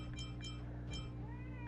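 Several short, faint meows from a house cat come at uneven intervals over a constant low electronic hum, with no one talking.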